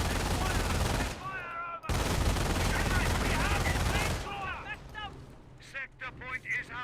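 Machine gun fire from an MG bunker in the Company of Heroes war strategy game, with loud continuous bursts for several seconds that break off briefly and then cut out, while a commentator talks over and after them.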